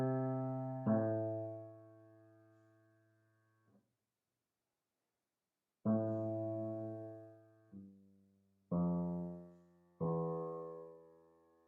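Piano plays a solemn descending theme from Verdi's Requiem, first one long held note fading away, then after a pause a string of separate notes stepping downward, each struck and left to decay, soft and alone.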